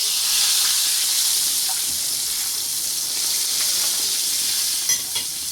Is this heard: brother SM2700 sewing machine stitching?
no